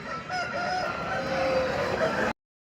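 A rooster crows at a busy hen market, the call drawn out and fairly close amid a steady hum of crowd and birds, with no speech over it.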